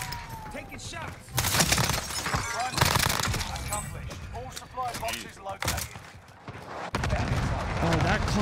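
Gunfire crackles during a Warzone Season 4 match, with bursts of sharp shots and breaking impacts coming in uneven clusters while players talk over the action.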